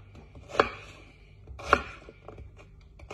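Knife chopping vegetables on a cutting board while preparing a salad, two sharp distinct chops about a second apart with quieter scraping and taps between, close and clear with no talk.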